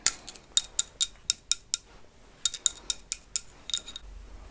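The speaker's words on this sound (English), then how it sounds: "So we have our scissors to cut away." Scissors snipping in a calm, relaxing grooming setting, crisp metallic clicks in two quick runs of about eight cuts each separated by a short pause, close and clear with no talk.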